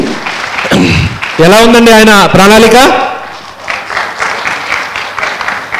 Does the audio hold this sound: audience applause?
yes